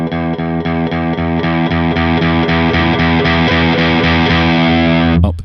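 Electric guitar played through an overdrive pedal, a steady repeated strummed chord pattern loud and sustained, the distortion gain rising from nearly clean toward a middle amount before cutting off abruptly.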